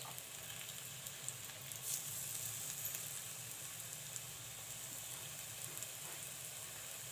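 Coated crispy potato slices frying in oil over a medium flame, a soft continuous sizzle with small crackles that runs evenly from start to finish.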